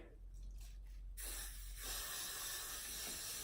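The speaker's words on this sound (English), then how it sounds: "Now I'm gonna take this Got To Be Glued Freeze Spray." A close Got To Be Glued Freeze Spray hair aerosol hisses out in a short burst, then a longer steady blast, fairly quiet against the background.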